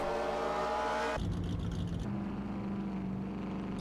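Race car engines roar in a racing video game on an oval track, a loud sustained drone that cuts abruptly and shifts to a different engine pitch partway through.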